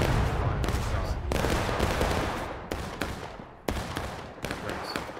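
Musket volley fire in the Civil War game War of Rights, a dense crackle of overlapping shots with several sharp louder volleys, close and continuous, with a voice faintly under it.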